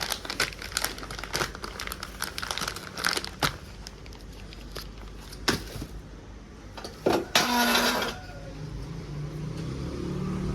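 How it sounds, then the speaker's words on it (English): Protective paper wrapping from a ream of copier paper being crumpled beside a Canon iR 6575i copier, a close series of crinkling, crackling bursts with a louder rustling flurry near the end and quiet pauses between. "Before that protective paper is thrown in the trash."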